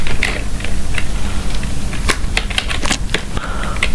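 Rapid clicking of keys on a computer keyboard, irregular close taps and clacks running continuously over a steady background hum.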